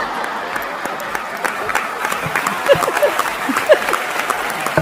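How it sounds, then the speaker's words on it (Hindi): Sustained applause from a large audience, dense clapping that keeps a steady level with a few louder claps standing out. "आपकी तालियां बता रही कि आप व्यंग समझ रहे हैं।"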